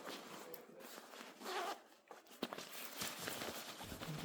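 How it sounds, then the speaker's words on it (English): A zipper on the inside of a Gucci GG puffer vest is worked open or closed, giving close, scratchy rasps with a rustle of quilted fabric and a brief quiet gap partway through. "Oh, it also has a zipper on the inside right here."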